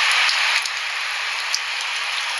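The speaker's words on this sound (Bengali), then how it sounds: "এটা থান্ডারস্টর্ম আছে।" A thunderstorm sound effect plays as dense, steady rain-like hiss, loud and continuous with no distinct thunder crack, no voices.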